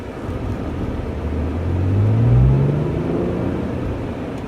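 An APR-tuned Audi S4 pulls hard on a highway, its engine rumble swelling as it accelerates, then holding at a steady drone heard from inside the car with constant road noise.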